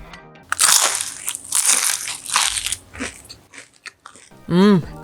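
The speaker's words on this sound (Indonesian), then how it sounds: "Dibikin piscok lumer juga kriuk banget." Loud crisp crunching bites into a fried piscok, a chocolate-filled spring roll with a crispy wrapper, in repeated bursts with a few brief voice sounds near the end.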